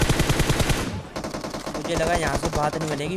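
Rapid automatic gunfire laying down cover fire in the mobile battle royale game BGMI (PUBG Mobile), with loud, dense bursts of shots throughout and someone talking over the shooting.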